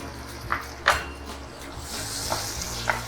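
Tomatoes go into masala cooking in a pan, giving a low background sizzle broken by several scraping stirs and light utensil knocks spread across the moment. There is no talking.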